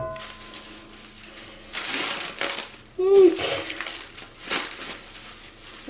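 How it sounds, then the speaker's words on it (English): Hand-painted superwash wool/nylon roving being unwrapped from its covering, giving soft rustling and crinkling swells close by, with a brief squeak midway and a voice speaking lightly in the background. "All right, let's unwrap our roving."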